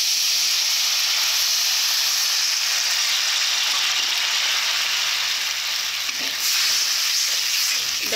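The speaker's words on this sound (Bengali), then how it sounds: "এরপর জল দেব। যতটা তোমরা ঝোল রাখবে সেই অনুযায়ী তোমরা জলটা দিবে।" Water poured into a hot frying pan while making an eggless egg curry, raising a loud continuous sizzle and steamy hiss that holds steady, with a brief stirring disturbance near the end.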